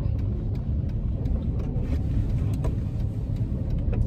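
Steady low engine rumble of a car pulling away in second gear on a city street during a driving lesson, loud and continuous from inside the cabin, with faint ticking clicks over the drone.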